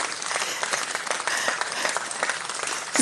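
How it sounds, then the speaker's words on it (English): A few people clap steadily for about three seconds in an online Twitter Spaces audio room, the claps fairly dense, close and a little thin, with no talking over them. "somebody's clapping."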